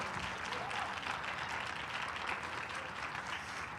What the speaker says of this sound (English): Can you all give another round of applause for Mr. Ismail Bachway?